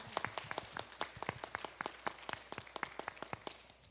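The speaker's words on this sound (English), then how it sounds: "Can we give her a round of applause, please?" A small town hall audience claps for a speaker, with sparse, distinct handclaps that sound close and uneven, thinning toward the end.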